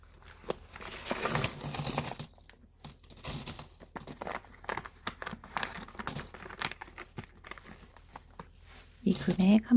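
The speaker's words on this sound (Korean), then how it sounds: "이 안에 들어있는 동전도 모두 꺼내줄 거예요." Korean won coins clink and rattle as they are taken out of a savings container and poured out, with crinkling and shuffling noises in bursts, close by.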